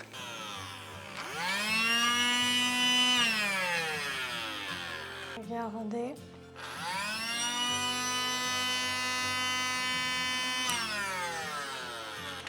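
Cheap fake Dyson-style vacuum cleaner whining loudly with a high, rising and falling motor pitch, cutting out briefly mid-way before starting up again; a voice speaks briefly over it.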